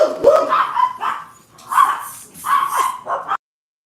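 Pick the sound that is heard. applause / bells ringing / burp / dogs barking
dogs barking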